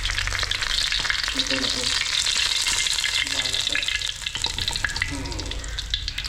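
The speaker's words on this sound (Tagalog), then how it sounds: "Prituin na muna natin yan." Food fries in a pan, giving a loud, steady sizzle that carries through the whole stretch, while a voice speaks briefly over it.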